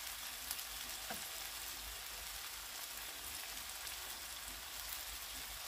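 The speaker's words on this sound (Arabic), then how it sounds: "ودابا هادي غادي ندير واحد المعلقه ديال الصوجه" Soy sauce sizzles in a hot frying pan while cooking rice with shrimp, a steady, faint crackling hiss throughout with no voices.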